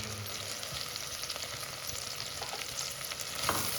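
Mint and coriander leaves sautéing in oil in a stockpot with tomatoes, a dense steady crackling sizzle with occasional stirring scrapes, close and even throughout.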